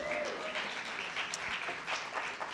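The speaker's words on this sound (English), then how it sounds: "That alone deserves applause." An audience at a women in ministry conference keynote breaks into sustained applause, many hands clapping at once in a steady, moderately loud wash that carries through the whole moment.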